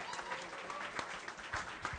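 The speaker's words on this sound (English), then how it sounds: "please give a big round of applause for the director of the video and his team" Audience applause for a film director and his team at a book launch event, a steady patter of many hands clapping, fairly faint and distant, sustained through the whole moment.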